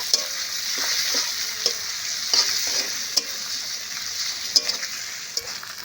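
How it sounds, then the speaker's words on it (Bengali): Spice masala with garlic and ginger paste fries in oil for a lote fish curry, giving a steady close sizzle with light periodic stirring taps. "আদা বাটা এক চামচ দিয়ে দেব দিয়ে বেশ ভালো করে নেড়ে ছেড়ে মশলাটা কষে নেব"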